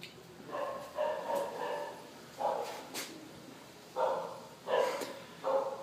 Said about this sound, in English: Baron is about a one-year-old golden retriever Irish setter mix.